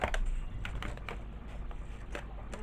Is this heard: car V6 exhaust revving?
no